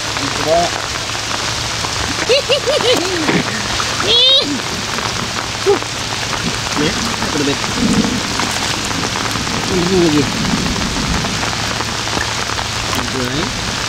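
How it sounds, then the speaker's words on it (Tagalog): Heavy rain drumming steadily on surfaces during a typhoon, loud and constant, with voices calling out now and then beneath the downpour. "Grabe ang lakas ng ulan mga kalab."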